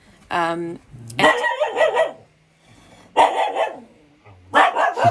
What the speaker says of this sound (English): my dog has just decided to tell me that there is a bigger dog outside my window